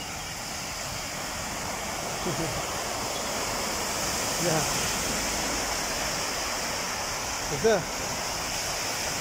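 Heavy floodwater rushes after a downpour, a loud, unbroken roaring wash close by, with a few brief higher sounds rising above it.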